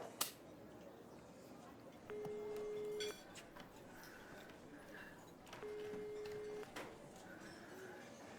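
A telephone call being placed rings out as two long, steady ringback tones, each about a second, separated by a pause, faint against a quiet indoor room hiss.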